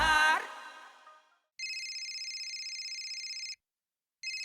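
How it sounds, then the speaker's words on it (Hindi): A telephone rings electronically in a long trill, pauses, then starts ringing again, following a fading chime at the start. "काहे इतना बज रहा है फोन?"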